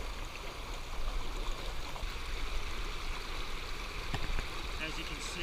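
The Provo River flows through town beside a junkyard, its water rushing in a steady broadband wash, with a brief knock partway through and no clear speech.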